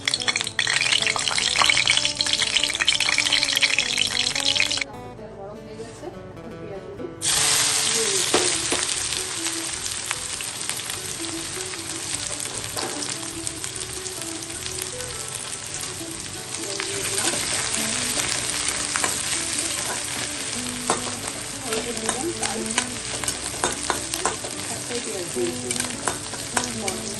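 Hot oil sizzles loudly and steadily in a pan while a chicken curry is cooked, with a brief dip in the middle where the frying quiets before the crackle returns at full strength, alongside some background tones.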